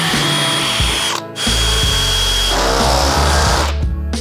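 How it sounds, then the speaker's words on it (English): A power drill bores holes for camera mounts in a test rig. Its loud, close whine runs continuously, drops out for a brief moment, then revs back up and keeps going. "Set these mounts aside and we'll just start drilling."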